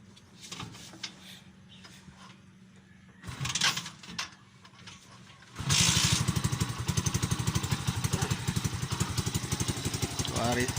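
A Kawasaki Bajaj CT 125 motorcycle with a misfiring engine and smoky exhaust, undergoing carburetor tuning, starts after some quieter clatter and settles into a loud, close, steady idle with a rapid even pulse.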